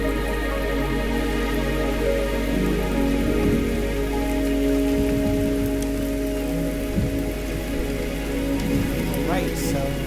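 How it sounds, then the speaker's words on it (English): Steady rain pours continuously in the video game Wuthering Waves, a dense even hiss over a low droning ambient bed, with a faint bright chime near the end. "The rain is subsiding, and the sky will soon clear."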